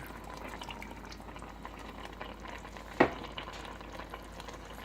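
Chicken adobo cooking in a pot after soy sauce and apple cider vinegar go in, a steady low sizzle and bubbling with a single sharp clank of a utensil midway, no talking.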